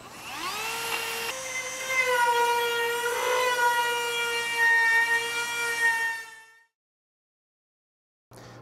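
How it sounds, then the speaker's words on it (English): A Dremel fitted with a small drum sander whines at a high, steady pitch that rises slightly as it grinds out the bumper spuds on a quarter midget frame. It runs for about six seconds, then cuts off into silence before briefly starting again. "So a little drum sander on a Dremel works great"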